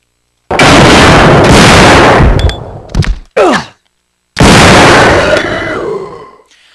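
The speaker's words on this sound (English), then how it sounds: "that takes 2 shots from this shotgun" Shotgun blasts in Resident Evil 2 come as heavy, loud booms, two long roaring shots with short bursts between them, each trailing off into a ringing decay.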